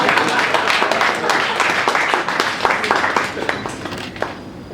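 An indoor awards-ceremony audience applauding, dense continuous clapping that is loud and close, tapering slightly toward the end.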